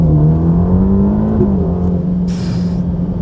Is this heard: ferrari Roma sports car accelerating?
yes